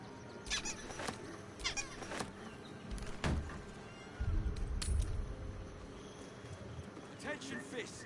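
A cat meows a few times in Baldur's Gate 3, short mewing calls mixed in with busy game sounds and occasional low thumps.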